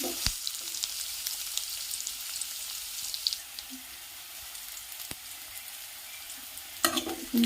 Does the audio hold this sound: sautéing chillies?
yes